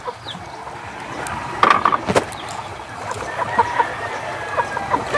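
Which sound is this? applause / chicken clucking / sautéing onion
chicken clucking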